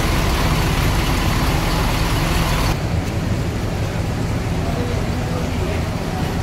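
A Rosalia Indah bus rolls through congested road traffic at a counter area on the route to Palembang, with a steady broadband roar of engines and road noise that drops somewhat partway through, and a voice talking over it.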